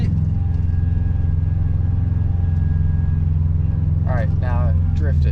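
A manual car accelerating during a driving lesson, its engine giving a steady, loud low drone from inside the cabin, with a voice briefly audible toward the end.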